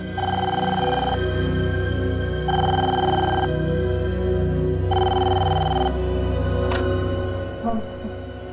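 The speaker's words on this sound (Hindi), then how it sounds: "किसका फोन हो सकता है?" A telephone rings in repeated electronic bursts, about four rings with pauses between, over a steady low background hum.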